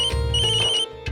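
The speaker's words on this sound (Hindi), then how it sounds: "अरे अक्षरा का फोन है" A brief electronic phone ringtone chimes loudly and close, cut off after about a second.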